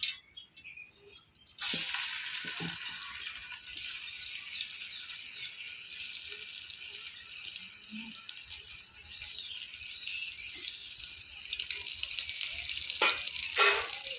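Ground onion-masala paste for a Telugu fish curry drops into hot oil and sizzles with a steady, fairly quiet hiss that continues unbroken, with occasional faint clinks.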